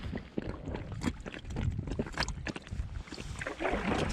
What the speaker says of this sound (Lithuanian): tau reikia tiesiog irkluoti